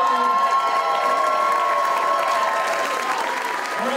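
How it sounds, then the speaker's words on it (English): Applause and cheering from a crowd at a charity gala grand finale, loud continuous clapping with shouts and a sustained tone over it, steady from start to finish. "let's keep the applause going"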